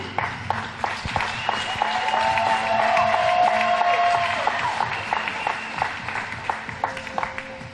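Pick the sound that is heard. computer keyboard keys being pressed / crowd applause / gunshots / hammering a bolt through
crowd applause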